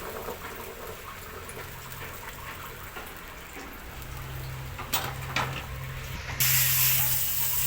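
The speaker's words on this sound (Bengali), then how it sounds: "শুকনো মাছটা এখানে ভেজে নিচ্ছি" Dried fish frying in a pan for a home-cooked dish, with a steady, close hissing sizzle that grows louder and brighter toward the end, no talking over it.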